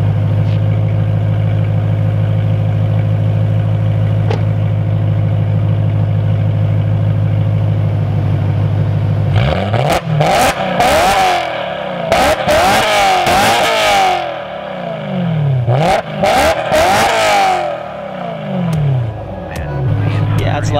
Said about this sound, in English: One thing I had realized is that I never share how loud this car is.